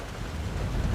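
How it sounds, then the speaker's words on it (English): Rain falls in the Forza Horizon 6 racing game as a brief, steady wash of hiss and patter, faint and continuous with no voices. "Oh, it's raining."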